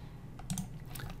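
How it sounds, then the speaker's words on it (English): A few quick keystrokes on a computer keyboard while working in an Excel 2016 spreadsheet, pressing Control, Shift and the down arrow together, close and fairly soft, with no talking. "I'm clicking on the label and hitting control and shift at the same time and hitting down."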